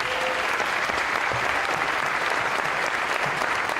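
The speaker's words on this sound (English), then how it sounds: "Let's have one more round of applause for our state champion ladies track and field team." A crowd at a high school athletic awards ceremony claps steadily for a state champion girls' track and field team, a dense, even roar of applause with no let-up.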